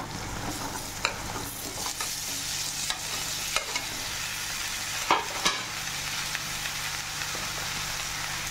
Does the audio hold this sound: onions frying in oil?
yes